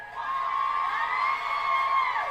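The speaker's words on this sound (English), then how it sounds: "Listen to them cheer her on." An audience at a speech on abortion rights cheers and whoops loudly in a continuous burst of crowd noise with high shouts, with no clear talking.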